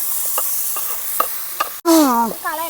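Green chilies are stirred into chicken curry in a pan over an outdoor cooking fire, giving a soft sizzle with a few light scraping taps, then a clear whistling bird call cuts in near the end.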